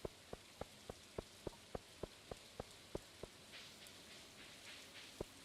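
Steady soft rain patters in the Stardew Valley video game during green rain, with a faint regular ticking pulse repeating throughout.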